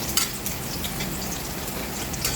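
Food fries in hot oil that sizzles steadily and loudly, with sharp popping splatters scattered through the hiss.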